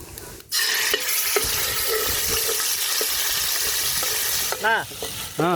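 Chili bajji drop into hot oil and burst into a loud, close, continuous sizzle after a short quiet start, with bubbling and a few clinks toward the end.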